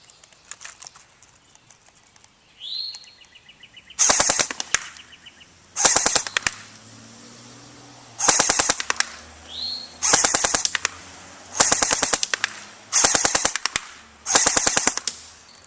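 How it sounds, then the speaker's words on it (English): An M4 rifle fires seven crisp 3 to 5 shot bursts at steady intervals. Each burst is loud and rapid, with quiet gaps and a faint ambient hum between them. "We're going to shoot, we're going to try to get around 3 to 5 shot burst in."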